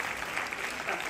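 A theatre audience applauds during an honorary celebration for a stage production, giving a brief, steady wash of clapping at moderate distance with no pauses.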